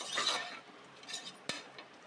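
Mutton sautéed with onions in a pan for a mutton kurma: quiet scraping and stirring with a faint sizzle, then a sharp clink of the utensil against the pan.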